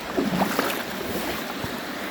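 Sea waves washing onto a quiet beach near a still, river-like stretch of water, a soft steady wash of surf with light wind noise over the microphone, no voices.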